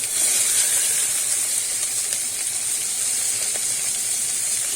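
Chopped onion tossed into hot oil with a whole bay leaf and cumin seeds for a Bengali bhetki fish-bone chorchori, giving a loud, steady, close sizzle with a bright hiss that holds unbroken throughout.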